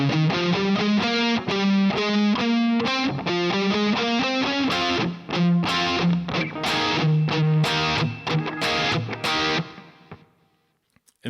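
Distorted electric guitar plays a chugging rock riff with punchy chord stabs, loud and continuous for about ten seconds before ringing out and fading, with no talking.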